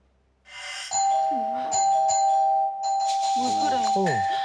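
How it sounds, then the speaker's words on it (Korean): A home doorbell rings at night with repeated bright ding-dong chimes over a low hum, while voices are briefly heard in the background. "근데 왜 초인종을 눌러?"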